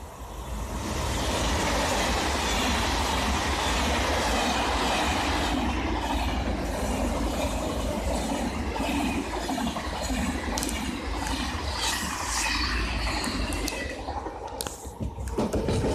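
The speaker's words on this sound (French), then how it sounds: "c'est un TGV" TGV high-speed train passing through Saint-Denis: a loud, sustained roar of rushing wheels and rails fills the whole span, with clattering rail joints and a brief screech as it ends.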